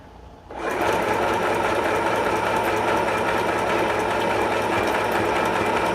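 A Dechow portable sewing machine starts up after a brief quiet moment and then sews in a loud, steady, fast mechanical whir that runs without a break to the end.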